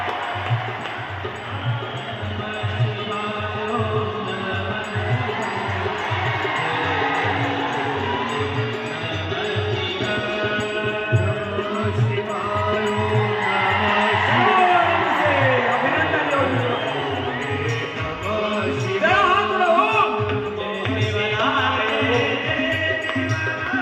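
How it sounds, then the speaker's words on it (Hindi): A large seated crowd at a Hindu religious gathering honouring Yogi Adityanath gives a long, steady, loud burst of clapping and cheering with whoops, the dense hubbub holding level throughout. "एक बार बैठे बैठे जोरदार तालियों से अभिनंदन योगी जी महाराज."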